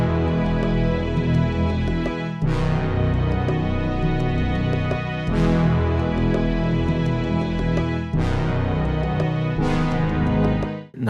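Sampled beat built on a percussion loop with synth horn chords, looping in repeating bars with sharp hits roughly every three seconds over sustained chordal tones, loud and continuous.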